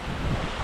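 Waterfall pouring into rock pools in the Glinščica gorge, a steady broadband rush of falling water close by, continuous with no voices.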